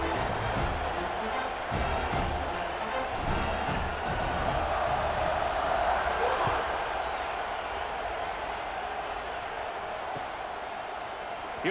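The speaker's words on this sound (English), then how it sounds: "You think this crowd's going to get loud when their defense comes on the field?" Stadium crowd in EA Sports College Football 26 keeps up a steady, broad roar of cheering across the whole stretch, loud and continuous, with commentary voices faintly underneath.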